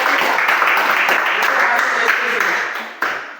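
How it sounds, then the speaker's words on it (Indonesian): Classroom audience applauding a presentation group, a dense, steady burst of clapping lasting a few seconds before thinning out near the end. "Kita tepuk tangan untuk kelompok 3."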